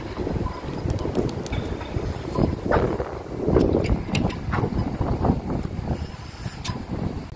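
Wind blowing outdoors on a fairly breezy day, a steady, gusty rumble against the microphone with no voices.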